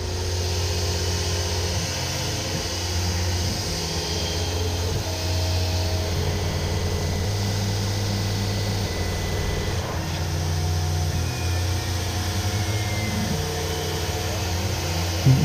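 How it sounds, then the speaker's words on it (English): A CNC mill running a quarter-inch tool on a 2D contour pass, cleaning recessed planes on a South Bend lathe casting pattern: a steady, continuous machine hum with shifting tones and no talk. "a 2D contour to clean up these recessed planes"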